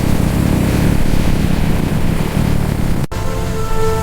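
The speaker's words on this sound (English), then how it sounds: "The plane starts moving." An airplane starting to move gives off a loud, steady engine drone that continues throughout, with a brief click and a slight tonal whine near the end.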